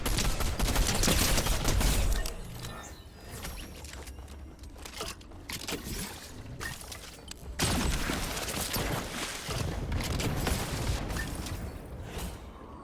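Video game gunfire, dense bursts of rapid automatic shots and clattering in two long loud stretches separated by a quieter gap with scattered single shots.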